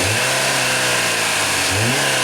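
A 2004 Chevrolet Malibu Classic with a mostly original engine runs loud and close, a steady mid-pitched drone with two brief rising revs near the start and toward the end, and no talk.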